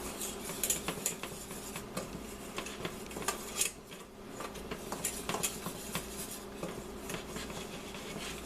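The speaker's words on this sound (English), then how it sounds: "I use a whisk to make sure there's no lumps." A whisk scraping and clinking against a pan as flour is worked into a white pan gravy with tomatoes, busy rhythmic metallic ticks and rubbing over a low background, no talk.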